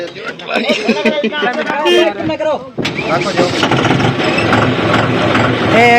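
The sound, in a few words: John Deere tractor engine running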